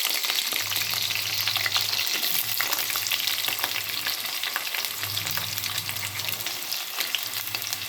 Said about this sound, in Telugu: ఇప్పుడు మామూలుగా ఎప్పుడు వేసేలాగే పచ్చిమిర్చి ఉల్లిపాయ వేసేస్తున్నా.